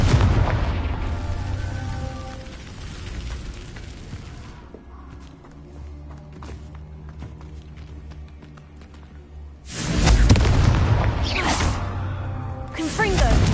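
Hogwarts Legacy's Confringo blasting spell: loud booming explosions at the start and again near the end, separated by a quieter stretch of low droning ambience and footsteps.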